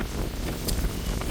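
Wind gusting around a car during winter car camping, a loud, rough rumble of wind buffeting the microphone for a short burst.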